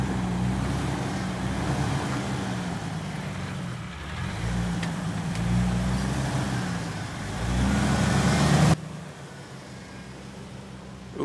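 An off-road vehicle grinds slowly over a trail obstacle, its engine a steady close rumble with wind-like noise that swells before cutting off abruptly near the end.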